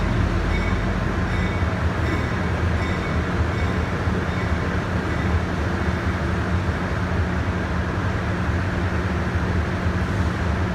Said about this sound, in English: You can hear the Amtrak train coming in.